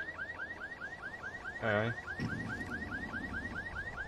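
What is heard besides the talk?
alarm going off in a video game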